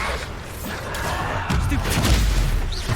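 The Bombarda explosion spell in Hogwarts Legacy goes off as a rumbling blast with crashing debris, loud and close, over continuous game noise and clatter.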